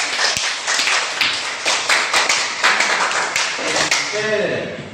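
Students in a classroom clap together in a short burst of close, uneven claps and taps, with a voice starting to speak as the clapping winds down.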